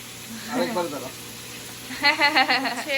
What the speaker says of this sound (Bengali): পেঁয়াজের সাথে শুটকি মাছটা একটু হালকা করে ভাইজা নিব